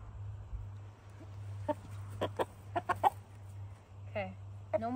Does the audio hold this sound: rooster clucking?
yes